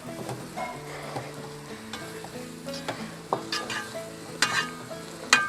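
Onion and tomato frying in a pan for an egg roast, a steady close sizzle with stirring scrapes and clinks that grow more frequent toward the end.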